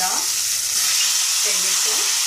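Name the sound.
onion frying in a pan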